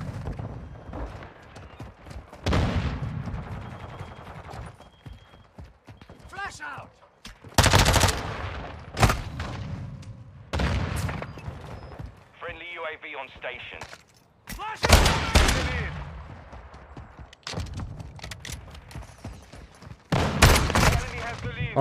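Slug shotgun gunfire in a multiplayer hardpoint match of a shooter video game: sharp, loud single blasts come at irregular intervals, mixed with game noise and a player talking over the action.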